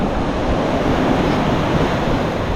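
Sea waves break on a beach shore in a continuous loud wash of surf, the rushing roar filling the scene without pause, with wind noise mixed in and no voices.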